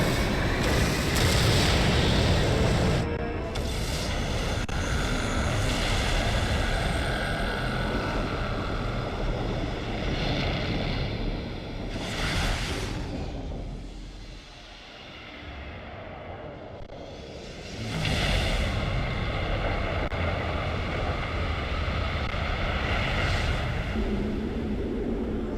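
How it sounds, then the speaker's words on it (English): A massive cutscene explosion in Metroid Prime 3 plays as loud, sustained roaring blasts with several booming surges, a brief dip, then another swelling rumble over a dense noisy backdrop. "I was not expecting to see the explosion at all"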